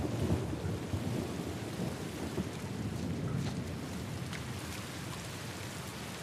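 Thunderstorm in the video game The Last of Us Part 2: steady heavy rain hiss with low rolling thunder rumbling throughout, loud and continuous with no talking.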